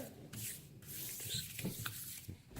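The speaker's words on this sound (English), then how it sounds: "We are going to mix up the slips." Slips of paper shuffled and stirred inside a hat for a fantasy football lottery draft, a close, continuous papery rustling and rubbing with a few brief crinkly accents.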